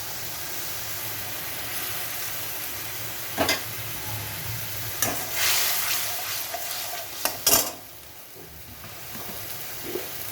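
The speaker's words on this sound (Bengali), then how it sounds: "টমেটোটা একটু দিয়ে দিচ্ছি।" Tomato puree hitting hot tempering in a pan, a strong steady sizzle with several sharp scrapes and knocks as it is stirred in, close by and free of talk.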